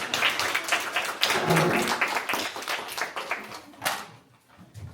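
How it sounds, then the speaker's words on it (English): A crowd claps and cheers in a dense burst of applause that gradually thins out, with a few scattered claps lingering at the end. "Let's give them both a round of applause."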